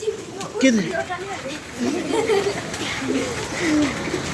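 Pigeons kept in a loft coo in low, repeated phrases, some rising and falling, with background chatter around them.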